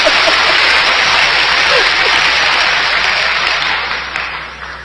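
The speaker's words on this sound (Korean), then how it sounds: "박수 쳐주니까" Sustained applause from a crowd at a church healing-ministry lecture, a dense even patter of many hands clapping that holds steady, then gradually thins and fades toward the end.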